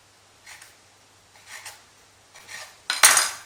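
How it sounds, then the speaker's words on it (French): A knife slices diagonally through a roll of dough on a hard surface, with three soft, spaced cuts followed by a sharper clack as the blade meets the board, close and quiet, with no talk. "je prends un boudin et je le coupe en biais"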